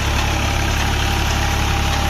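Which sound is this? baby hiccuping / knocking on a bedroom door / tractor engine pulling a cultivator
tractor engine pulling a cultivator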